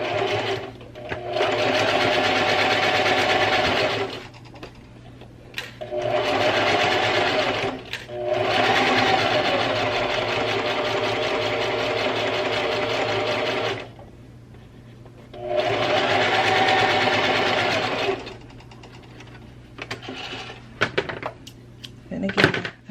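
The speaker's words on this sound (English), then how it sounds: "now sewing that entire corset from the bottom" A sewing machine stitches all the way around a corset, running in four long, loud bursts separated by short pauses, followed by scattered handling knocks and rustling at the end.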